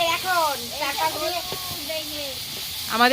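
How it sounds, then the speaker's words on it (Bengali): Potatoes fry in a wok over an outdoor picnic fire, giving a steady broad sizzling hiss throughout while several voices chatter and call out over it. "এখন আলু ভাজা হচ্ছে পিকনিকের"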